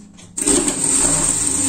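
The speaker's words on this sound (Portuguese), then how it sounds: "E vamos passar uma costura aqui também," A sewing machine starts up and stitches a seam on a wool pet sweater, a close, loud, steady mechanical whir with a fast rattling rhythm after a quiet start.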